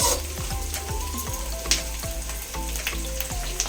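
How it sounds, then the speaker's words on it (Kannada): Onion, tomato, green chillies and garlic frying for a chicken gravy, a bright steady sizzle with rhythmic spatula strokes sweeping through the pan about every half second, close and continuous. "ಇದನ್ನ ಚೆನ್ನಾಗಿ ಒಂಥರ ಗೋಲ್ಡನ್ ಕಲರ್ ಬರೋ ತನಕ ಚೆನ್ನಾಗಿ ಫ್ರೈ ಮಾಡ್ಕೊಬೇಕು."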